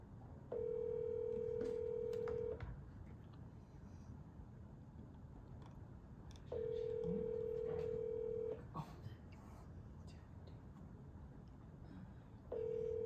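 A phone call placed during a committee meeting, with long steady tones repeating in a ring pattern about every four seconds over a faint room background; no talking over it.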